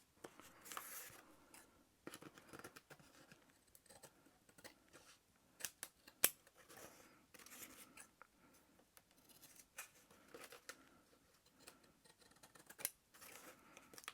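Scissors snip repeatedly through paper scraps as the overhanging edges of handmade junk journal cards are trimmed, a close, quiet run of crisp cuts with small paper rustles between them.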